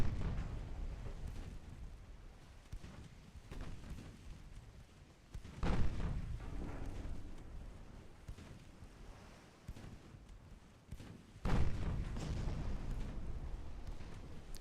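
Warship main guns fire in the naval strategy game Ultimate Admiral: Dreadnoughts, with deep booming blasts over a continuous rumbling roar, two heavy reports standing out midway and near the end.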